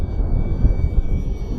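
Electric motor of a radio-controlled Corsair F4U-4 model airplane on a 4S battery running at half throttle, a steady loud whirring drone mixed with heavy wind buffeting, close by, with no talking.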